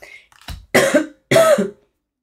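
Two sharp, close coughs in quick succession, each a harsh voiced burst, with a faint throat sound just before them.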